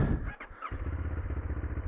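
Moto Morini X-Cape 700 motorcycle engine, a deep, close, rhythmic idle thrum with a brief rev at the start, then steady pulsing beats.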